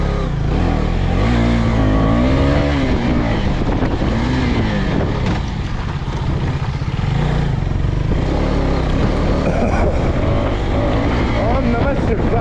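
Racing motorcycle engine on a track at a time-attack event, loud and close, the revs rising and falling through downshifts and acceleration for the whole run.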